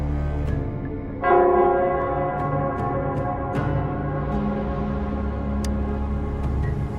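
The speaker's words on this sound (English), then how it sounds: "it's the Nell Squares bell." The Nell Squares bell in the video game Wuthering Waves rings once with a ringing metallic strike that hangs over a steady, dense ambient drone of background music and environment.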